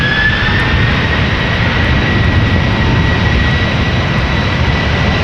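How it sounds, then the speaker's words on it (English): A Finnair Airbus A330-300 jet departs Amsterdam Schiphol for Helsinki, its engines a loud, steady roar with a faint high whine running through it, close by and alone, no talk. "Right, Finnair A330 300 1302 going to Helsinki"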